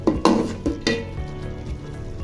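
Snake gourd dropped into a hot pan of oil, a few sharp clattering bursts as the pieces land, followed by a steady, softer sizzle of frying, no talking.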